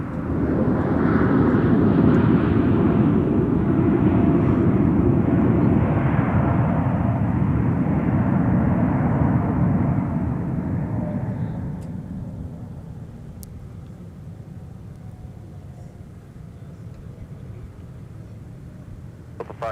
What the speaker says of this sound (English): 560 and A321 Neo arriving from Las Vegas